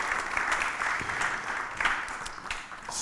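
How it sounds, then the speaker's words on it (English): Applause at a District 3 community meeting: a room of people claps steadily, with a few individual claps standing out near the front and a slight rise and fall in intensity. "So give her another round of applause."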